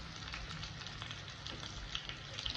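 Onion-stuffed chicken frying in a pan gives a steady, close sizzle and crackle with small pops throughout, and no voices.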